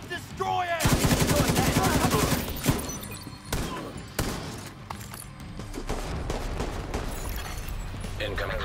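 Dense gunfire from a firefight at a metro ruins control point in Tom Clancy's The Division 2, with a rapid sustained burst followed by scattered shots and impacts, loud and close, while voices speak over it.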